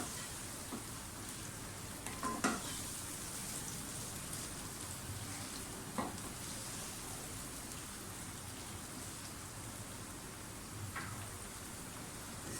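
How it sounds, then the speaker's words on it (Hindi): Mutton sizzling and frying in masala in a pot, a steady, even hiss of cooking with a few faint clinks of stirring, no voices. "दो मिनट इसको भूनें और साथ ही इसमें मटन डाल दें"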